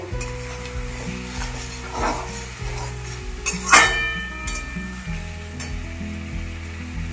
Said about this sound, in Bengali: এবারে একসাথে এটাকে খুব ভালো করে কষিয়ে নেব।